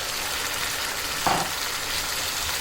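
Chickpeas frying in masala in a pan, a constant close sizzle with a brief louder stirring scrape midway, no voices.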